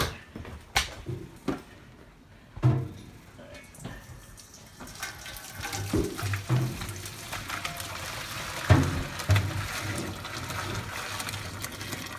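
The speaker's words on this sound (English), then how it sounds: "I'm gonna dump this whole big pot into the sink there" A big pot of water dumped into a kitchen sink, a rushing gush and splashing that swells and pours for several seconds amid clanks of the pot and background clatter, heard close with occasional soft voices.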